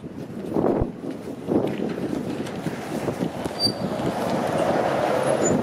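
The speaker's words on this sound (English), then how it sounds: "Oh god, another empty diesel on the Weston Road!" An empty diesel train passes along Weston Road in Toronto's Mount Dennis neighbourhood, heard from the street. Its low rumble and clatter build steadily from moderate to louder over the span, with no talk.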